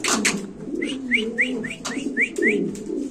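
Exhibition pigeons at a show-pigeon farm, heard close up with a low, rolling coo under a quick run of short rising calls that repeat about every quarter second.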